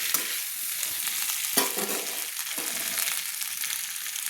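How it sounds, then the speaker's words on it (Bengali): Chunks of elephant foot yam fry in leftover fish-frying oil in a kadai, a dense, bright sizzle with rhythmic scraping stirs sweeping through it every second or so. "এই মাছ ভাজা কড়াইতেই আমি মাছ ভাজার তেলেই আমি মেটে আলুগুলো ভেজে নিচ্ছি।"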